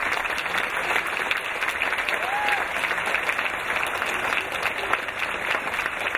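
A large audience at the IOI 2016 olympiad closing ceremony in Kazan applauds, a loud continuous wash of clapping that holds steady throughout, with a faint whistle briefly rising in the crowd.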